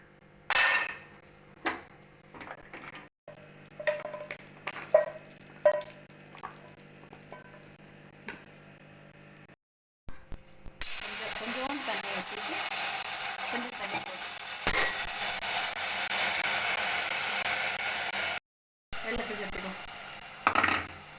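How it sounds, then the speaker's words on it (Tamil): Cashews frying in oil in a pan for grape halwa: scattered soft sputters and stirring clinks at first, then a loud continuous sizzle, close up, with no one talking. "முந்திரி போட்டு வறுத்து"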